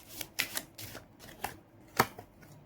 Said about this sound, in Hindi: we are also drawing out some लेनोर्मैन cards